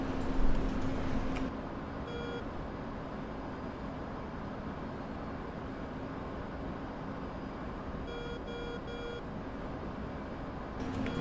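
Radar warning receiver beeps in a DCS F/A-18 Hornet cockpit, short bursts of rapid electronic tones at the start and a cluster near the end, over a constant engine and airflow rumble.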